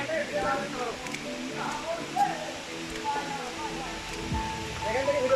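The Ham Ham waterfall in Moulvibazar, Sylhet, Bangladesh, heard from about 20 metres away: a steady broadband rush of falling water fills the background while people talk over it throughout.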